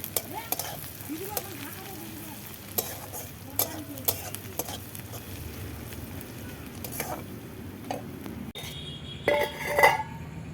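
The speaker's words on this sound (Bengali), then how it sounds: "পেঁয়াজ দিয়ে দিয়েছি কড়াইতে, পেঁয়াজটা ভাজা হোক" Onion fries in a wok over a clay stove, a soft steady sizzle under a few sharp clinks of a spoon stirring against the pan, brief clatter near the end.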